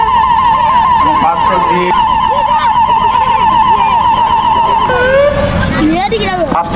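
An emergency siren wails steadily up close during a rescue drill for a collapsed building, its tone sweeping and rising near the end over a crowd's babble and traffic noise.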